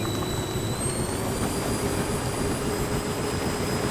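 Motors of a giant RC ekranoplan flying boat whine steadily as it accelerates on water, a continuous droning hum with high tonal pitches rising slightly.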